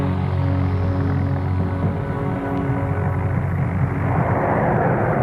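Droning multi-engine roar of a B-17E Flying Fortress bomber, a steady, dense piston-engine hum that swells slightly toward the end with no breaks.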